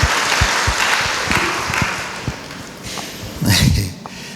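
A church congregation claps together in praise, loud, close, scattered hand claps forming a steady patter that swells again near the end, with no talking.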